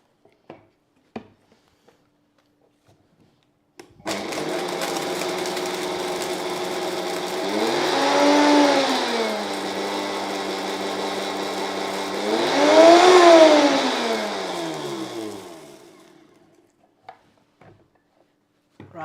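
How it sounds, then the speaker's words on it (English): A blender whirs loudly for about eleven seconds, grinding about a tablespoon of dried hibiscus flowers, its motor pitch swelling twice before winding down, with a few faint clicks before and after. "About just a tablespoon worth of flowers I'm going to put into my blender"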